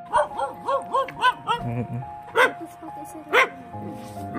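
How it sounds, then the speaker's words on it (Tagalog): A dog barks a few times amid people talking, with a warbling musical jingle playing nearby in the background. "May aso."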